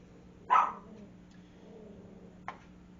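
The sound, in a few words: dogs barking at a draining washing machine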